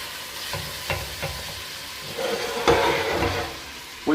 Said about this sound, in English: And now you have to cook the meat until it has a slightly whitish cover.